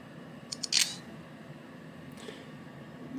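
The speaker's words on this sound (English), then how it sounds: "this is just taking a picture" Simulated shutter click from a BlackBerry Passport Silver Edition smartphone camera as a photo is taken: a couple of light ticks followed by one crisp, brief shutter snap, close and fairly loud against quiet room hiss.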